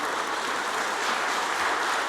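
A church congregation applauds during a revival service sermon, producing a steady, dense wash of clapping with no voices over it.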